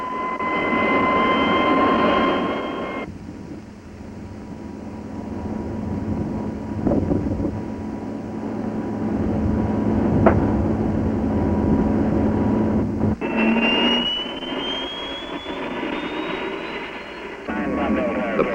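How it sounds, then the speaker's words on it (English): A T-33 Shooting Star jet engine runs steadily with a broad roar and a rising whine, steady loudness throughout, with a shift in tone partway through as the engine note climbs. "the engine is started and checked out"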